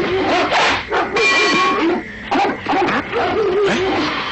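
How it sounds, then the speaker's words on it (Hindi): Several dogs bark and yip close by in an animated Jungle Book story, a dense, loud run of overlapping barks with a brief pause midway, standing mostly alone. "ये कुत्ते भौंक क्यों रहे हैं इतना?"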